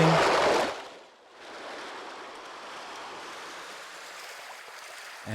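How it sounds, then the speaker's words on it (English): A water flowing sound effect layer for lo-fi drums rushes in a steady, continuous wash, with a louder surge at the start before settling into an even flow. "Water flowing."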